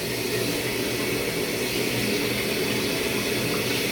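Steady running water from a faucet as hands are wetted under the stream, a continuous even rush close by with no talking.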